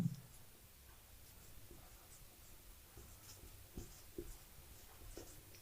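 Teacher writing out a maths solution, faint scratchy strokes and taps of a pen on a surface, close and very quiet, with no talking.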